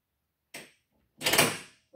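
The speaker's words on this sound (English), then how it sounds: "In through the nose and out through the mouth." Slow breathing during a forearm stretching exercise: a short sniff in through the nose, then a longer, louder breath out through the mouth, close and quiet, with the start of another inhale at the end.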